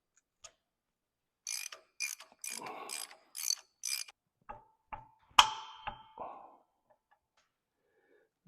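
Head bolts on a 1935 John Deere GP are loosened with a ratchet, a close series of crisp clicking ratchet strokes in short bursts, then a few sharp metallic knocks and clinks in an otherwise quiet space.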